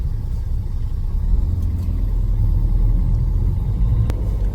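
Heavy Sunday road traffic in Ghaziabad, with the streets jammed with vehicles, makes a steady, dense low rumble of engines and tyres that holds without a break from start to finish.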